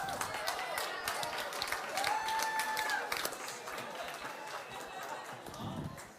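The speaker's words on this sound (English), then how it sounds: "Give yourselves a huge round of applause." An audience at a Manchester club event applauds steadily, with many hands clapping at moderate distance and faint voices and a soft whistle-like tone threaded through.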